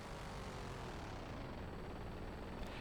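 Funny-sounding motorcycle engine in American Truck Simulator, a steady, droning, noisy engine hum that holds at an even level throughout with no break.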